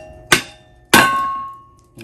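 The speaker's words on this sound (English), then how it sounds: "And you just drive it down on the hammer." Two sharp metallic clangs of a hammer driving a splitting tool down into firewood, the second ringing on and fading over about a second, close and loud with no talk.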